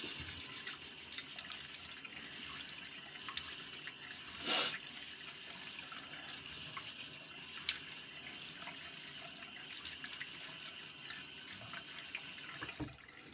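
Tap water running into a sink while a face is wetted for a shave, a steady faint rushing stream with a few splashes from hands, continuous and close, no talking.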